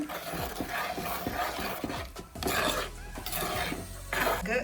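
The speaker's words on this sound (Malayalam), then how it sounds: "നമ്മുടെ മട്ടൻ കറി ഒന്ന് ഇളക്കി നോക്കുന്ന ഓൾമോസ്റ്റ് സെറ്റായിട്ട് വന്നിട്ടുണ്ട്" Mutton chatti curry being stirred in a clay pot: close, continuous scraping and clinking of a utensil against the pot, with a steady thick bubbling, no talking.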